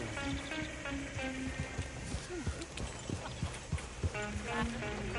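Steady clip-clop of horse hooves pulling a coach along a road in Red Dead Redemption 2, rhythmic and fairly close, with a short whinny-like tone and a voice speaking over the trotting.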